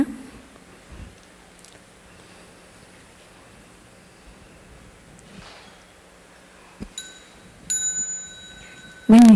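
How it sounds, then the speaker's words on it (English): A bell sounded at a Buddhist holiday retreat gives a clear struck tone with bright, sustained ringing partials near the end of a quiet hall ambience, followed by a louder burst. "When you hear the sound of the bell,"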